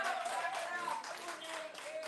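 Audience at a live poetry show clapping steadily throughout, with voices and cheering mixed over the applause.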